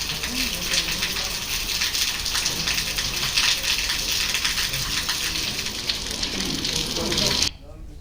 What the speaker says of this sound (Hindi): जम्मू कश्मीर के रामबन की हम आपको तस्वीरें दिखा रहे हैं, जहां पर बारिश हो रही है।